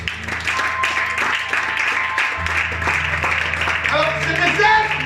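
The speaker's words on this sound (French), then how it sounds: "Est-ce que tu peux donner l'acclamation à Dieu ce matin?" A church congregation claps in acclamation to God during a sermon, steady mixed applause with voices and cheering throughout, building slightly toward the end.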